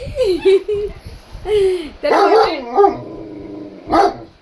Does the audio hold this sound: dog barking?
yes